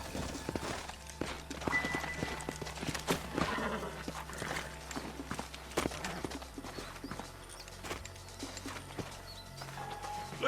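Horses in the video game Red Dead Redemption, hooves clip-clopping at a walk over a low rumbling background, with occasional snorts and brief whinnies, fairly faint and moderately distant.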